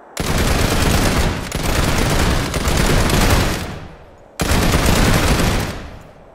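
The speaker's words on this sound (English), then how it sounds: "As you can see, it's the anti-infantry turret." An anti-infantry Mana turret fires in a video game in long sustained automatic bursts. Three bursts run back to back, a brief pause follows, then a fourth burst begins, all loud and close.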